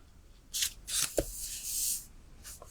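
Scissors snip paper for a handmade duck pond card, a few short close crisp cuts with a quiet gap between them.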